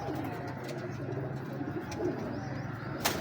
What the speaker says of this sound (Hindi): अच्छा नदीम भाई, ये किन कबूतरों में से है?